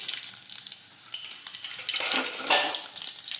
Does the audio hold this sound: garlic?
yes